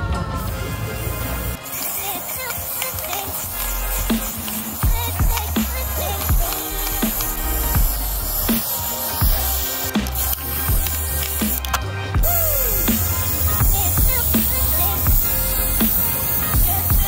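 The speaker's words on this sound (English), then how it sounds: "I'm just gonna be spraying the name right here." Steady hissing spray from an aerosol paint can, running in long continuous bursts with brief pauses, close and fairly loud.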